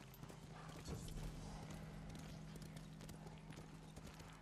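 Horse hooves clip-clop at a steady walking pace in the video game Ghost of Tsushima, faint and continuous over a low background hum, with no talking.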